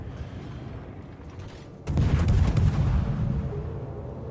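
Naval gunfire from a ship's broadside in the video game World of Warships: a sudden heavy boom after quiet rumble, followed by a sustained rolling roar that slowly decays.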